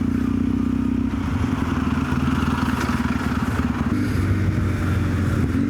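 A Yamaha XTZ750 Dakar motorcycle with an aftermarket exhaust idles with a deep, throaty exhaust rumble, loud and close, running steadily throughout with a slightly uneven, lumpy beat.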